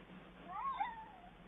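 A big house cat gives a single short, faint meow, rising and falling over about a second against a quiet background with no talking.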